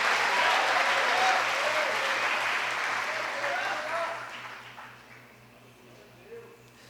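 A church congregation claps together in a broad, steady burst that gradually fades away, with a low electrical hum running beneath and faint voices as it dies down.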